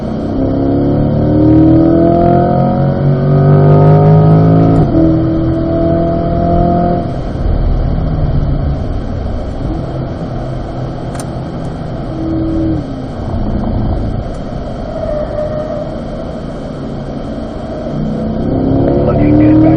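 A Chevrolet Corvette circles a race track at an owners' driving school, its engine droning loud and steady with throttle swells and lifts, close and continuous throughout.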